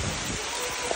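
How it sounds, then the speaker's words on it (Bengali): Steady rain falls and spatters on a surface in a short, continuous wash of noise, with no voices. "দেখুন কত বৃষ্টি হচ্ছে,"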